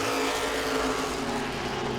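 Late model race car engines drone with a sustained, high revving tone, with several cars running together at speed on the track at Langley Speedway.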